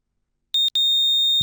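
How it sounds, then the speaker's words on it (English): Buzzer of a homemade infrared flame-sensing fire alarm circuit sounds a piercing high electronic tone, two short chirps and then a continuous loud beep, close and alone. "the LED glows brightly and the buzzer starts buzzing loudly"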